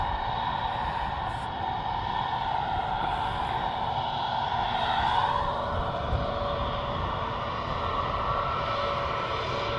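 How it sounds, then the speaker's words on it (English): Steady, loud roar of a departing airliner's jet engines at Christchurch Airport holding constant over several seconds, with a broad rumbling drone and a faint high whine. "just departing here is NZ203 to Brisbane"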